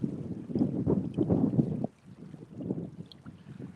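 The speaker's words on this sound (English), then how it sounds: "Let me know if the wind is horrible." Low, rumbling gusts of wind buffet the microphone outdoors during bank fishing, heavy at first and then easing into softer, uneven puffs.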